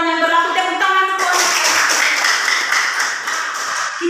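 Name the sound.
audience clapping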